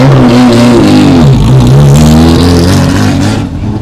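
Loud, close rally cars at the Subida a Chantada hillclimb blast past one after another, engines revving and dropping in pitch as they go by, with no talk over them.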